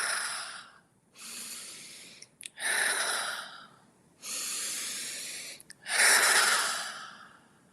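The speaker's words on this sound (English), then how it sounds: "close down your eyes, and just take 3 deep breaths." Three deep breaths taken during a breathwork exercise, each a long audible inhale followed by a slower, breathy exhale, close to the microphone and alone in a quiet room.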